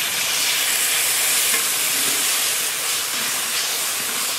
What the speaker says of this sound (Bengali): ঝোল সুন্দর ফুটে গেছে,